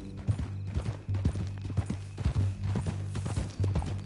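Horse hooves clip-clop at a walk in Red Dead Redemption 2, with steady irregular close thuds over a low droning background for about four seconds, with no talk.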